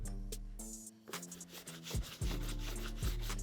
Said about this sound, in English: we grab our medium bristle brush, same thing, hit the foam right there, quick little dip